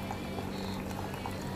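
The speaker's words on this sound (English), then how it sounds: "After that, you pour hot water. I am using my hot water dispenser." Hot water streams from a hot water dispenser into a cup for teh tarik, a steady close bubbling and gurgling pour that continues without break.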